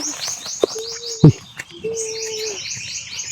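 Bird calls in a horror video game, with thin chirping trills and long, steady whistled coos, mixed with sharp clicks and thuds, moderately loud against a quiet background.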